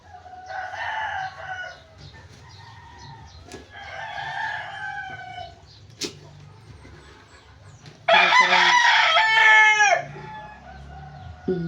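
Chickens cluck nearby behind a house, then a rooster lets out a loud, close crow lasting a couple of seconds, with softer clucking before and after.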